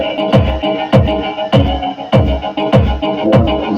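Deuahub DK-500 speaker playing music at 0 dB flat settings, full range with no added bass or mid, loud and close, with a repeating beat of sharp percussive hits roughly every half second over sustained tones.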